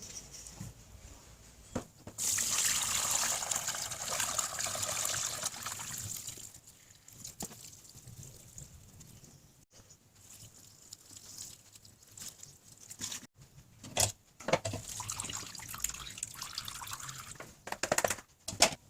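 Homebrewed beer wort pours through a filter, a continuous splashing trickle that swells for a few seconds, then thins to scattered drips and dribbles with brief quiet gaps.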